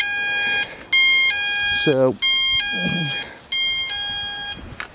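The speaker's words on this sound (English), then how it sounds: "a wireless intruder alarm type thing" A wireless intruder alarm sounds in loud, harsh electronic bursts, a steady tone cut by short gaps, close to the listener, while someone speaks briefly between bursts.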